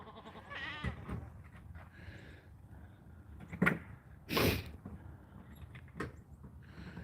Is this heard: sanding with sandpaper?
no